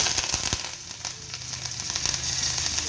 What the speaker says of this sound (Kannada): ಸ್ವಲ್ಪ ಬ್ರೌನ್ ಕಲರ್ ಬರೋ ತನಕ ಫ್ರೈ ಮಾಡ್ತೀನಿ. ಕರಿಬೇವು ಹಾಕ್ತೀನಿ